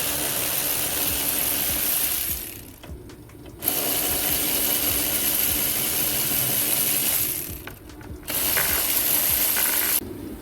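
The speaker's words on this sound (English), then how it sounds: "Since it's there and it's only 3 bolts, we might as well just take it off." Ratchet wrench undoing bolts on a 2009 Toyota Auris Valvematic control unit, with rapid, close clicking in long runs broken by two short pauses and a final stop.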